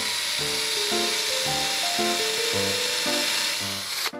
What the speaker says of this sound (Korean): 이중 드릴날로 예비 구멍을 먼저 이렇게 뚫어 주십니다